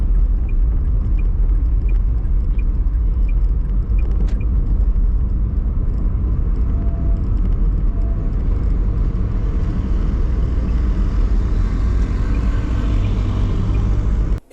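A car cruising on an expressway in Kenya, with a steady, loud low road rumble and tire noise throughout and no talk.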